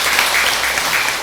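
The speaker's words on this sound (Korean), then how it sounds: "격려 박수 한번 칩시다." Audience at a Buddhist dharma service clapping in encouragement, a dense, loud burst of applause sustained over its whole short length without voices.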